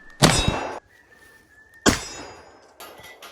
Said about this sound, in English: now we're going to go for the gong as quick as we can